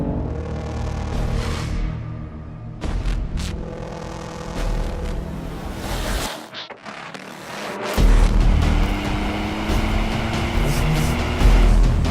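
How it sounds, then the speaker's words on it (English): A Ford Fiesta ST drives along a mountain road, its engine note rising and falling through gear changes with a brief drop in sound midway before the engine surges back louder, close and alone without talk. "A car that is in fact just like the new Fiesta ST."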